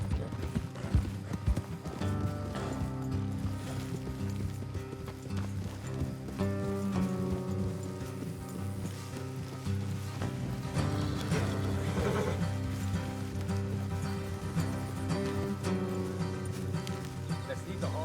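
Horses clip-clop and whinny in a Red Dead Redemption 2 game scene, hooves thudding steadily with an occasional neigh over a soft rain-like wash and background score, with no talk.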